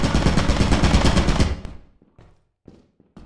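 Rapid automatic fire from a turret in Lethal Company rattles loud and continuous for over a second, then cuts off, leaving a few faint clanks and scuffs in near silence.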